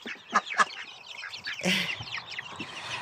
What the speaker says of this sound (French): Après, vous avez le petit canard coureur indien.